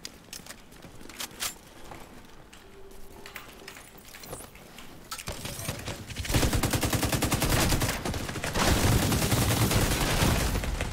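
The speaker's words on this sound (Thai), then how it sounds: "ไอ้ปืนพกมันยิงแรงมาก" Pistol gunfire in the game Darkzones: a few scattered sharp shots at first, then a loud, dense run of rapid firing that continues to the end.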